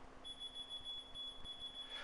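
A faint electronic beeping sounds in a quiet room during a TEAC EQA-10 MK II graphic equalizer repair: a thin, high-pitched tone pulsing rapidly and steadily, alone over a soft background hum.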